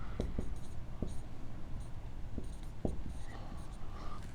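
A pen or marker drawing on a board gives soft, scratchy squeaks and short strokes in an uneven rhythm over a low steady room hum, close by, with no talk.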